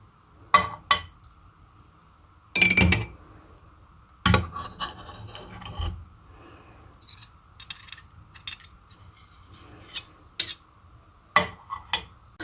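Metal spoons clink sharply against a glass of water while shaping traditional walnut hasude, a handful of bright separate strikes and short rattles spaced across a quiet room with a low background hum.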